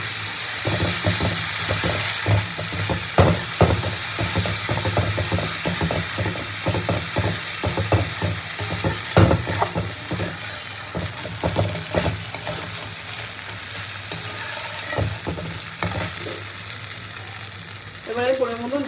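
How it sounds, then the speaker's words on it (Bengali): Spice masala fries in a pan for a pointed gourd curry, sizzling steadily while a spoon stirs and scrapes in irregular knocks, close up, with a brief voice at the very end. "মশলাটা মোটামুটি কষা হয়ে গেছে"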